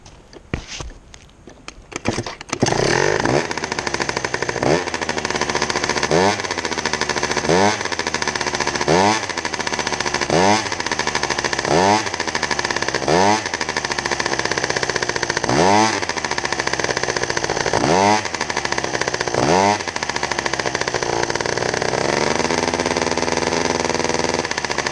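Motorcycle engine kick-started, catching after a few seconds and then running with a rough, rhythmic idle punctuated by repeated throttle blips, loud and close.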